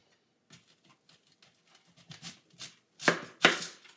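A red onion being chopped with a knife on a board: sparse light taps at first, then a quicker run of cuts ending in two loud, sharp chops, close up and alone.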